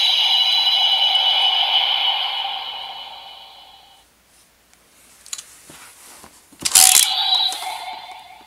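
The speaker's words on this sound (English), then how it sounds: "the capsule alone just does that little whirl noise" A DX Giga Finalizer toy from Ultraman Geed, its capsule making a short whirring mechanical noise, then a brief ratcheting click and a second whir after a pause, close and fairly loud.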